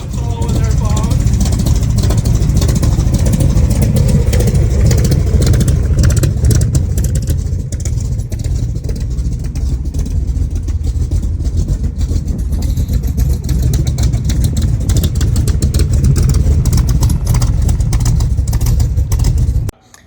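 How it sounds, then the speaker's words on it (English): A 1965 Shelby Cobra with a 427 engine runs loud and close for about twenty seconds, a deep, rumbling, steady exhaust note with slight revving swells, cutting off abruptly at the end. "we're going to pull it out so you can hear the sound of the 427."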